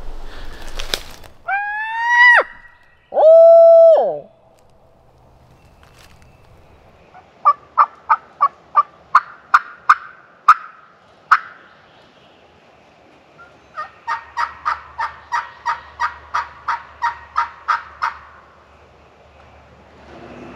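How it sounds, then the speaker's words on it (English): Two loud wild turkey gobbling bursts ring out close by, then long rhythmic series of sharp repeated calls follow in quick trains, outdoors in a quiet setting at daybreak. "thought we heard a turkey gobble"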